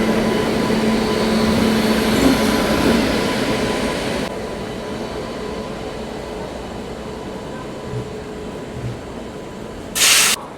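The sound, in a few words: Rajdhani Express train arriving at railway platform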